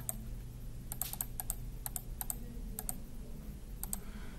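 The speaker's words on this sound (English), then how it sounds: "I'm going to start to type in trial balance." Quick, light clicks of typing on a computer keyboard while entering a report search in QuickBooks Online, short bursts of keystrokes close up against a quiet room hum, with no voice.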